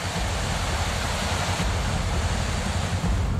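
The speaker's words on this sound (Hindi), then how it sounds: "और देखिए कैसे कितनी तेजी से सैलाब की तरह पानी बह रहा है।" Floodwater surges through an opened power project dam gate on a swollen river during heavy monsoon rain in Uttarakhand, a loud, steady roaring rush with no letup and no voices.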